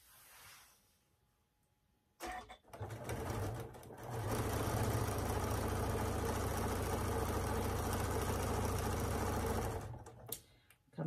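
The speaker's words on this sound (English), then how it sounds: "I'm just going to take it over, and I'm going to sew 1/4 inch" A sewing machine runs a quarter-inch seam on a pinwheel quilt block, starting after a quiet moment with a short burst, then a steady fast whirring stitch for several seconds before stopping near the end.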